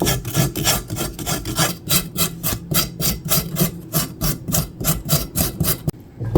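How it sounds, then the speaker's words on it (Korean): The back of a knife scrapes the skin off a burdock root in quick, rhythmic rasping strokes, around twenty in a row, close and clear with no talking. "힘주지 말고 칼등으로 살살 긁어내면 돼요."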